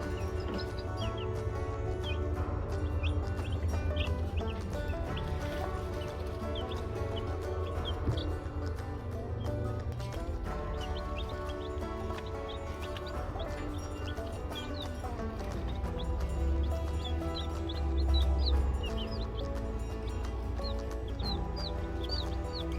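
Baby egg chicks in their first week, indoors on a snowy day, keep up a steady chorus of high peeping with some clucking. The sound is continuous and fairly close, and there is no talk over it.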